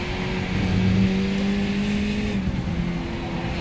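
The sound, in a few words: race car engines in a racing video game at Okayama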